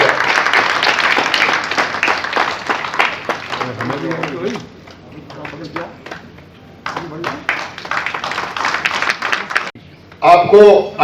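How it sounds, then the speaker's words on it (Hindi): Loud applause welcoming guests at a traders and police-administration dialogue seminar, dense clapping in bursts with a pause in the middle where a voice and background chatter come through. "जोरदार तालियों से स्वागत किया जाए।"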